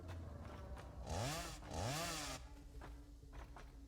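Chainsaw in the factory-building game Satisfactory cutting trees: two loud rising revving bursts one after another over a steady engine drone, close up, with no talk.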